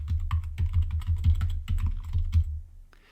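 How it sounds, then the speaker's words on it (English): Rapid keystrokes on a computer keyboard, close and clear, as a web address is typed in a steady burst of clicks. The clicking stops briefly, resumes, then ends near the close of the clip. "I'm just going to type in Likability Marketing."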